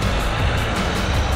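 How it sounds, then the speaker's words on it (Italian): Idling car engines at a traffic light, a steady low rumble of several vehicles running in place, close and continuous with no pauses. "Come potete sentire, tutte le macchine ferme al semaforo qui hanno il motore acceso"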